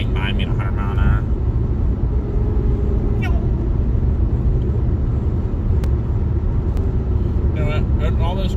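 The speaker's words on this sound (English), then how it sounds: "All those cars were flying by." Highway traffic during a fast drive home, heard as a constant heavy road rumble with tire and engine noise from inside a moving vehicle. Faint higher whooshes pass by now and then, and no one speaks.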